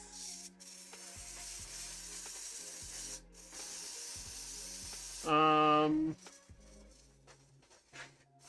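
An airbrush sprays paint onto a Be'lakor miniature with a steady, close, fairly soft hiss, followed by a brief louder tonal whir near the end, with no talking.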